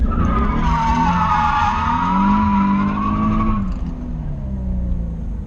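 A car drifts through a turn during a drift driving lesson on a track. Its tires squeal loudly and continuously while the engine drones and revs up close, then the noise eases slightly toward the end.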